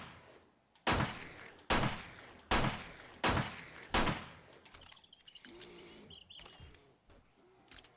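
A pistol fires five evenly spaced, loud, sharp shots at a bear in the survival game 7 Days to Die, followed by softer scattered clatter and small impact sounds.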